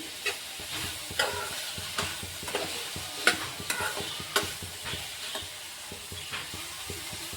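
Paneer gravy ingredients with sesame seeds being dry-roasted in a pan, a spatula scraping and stirring in irregular close knocks over a faint sizzle.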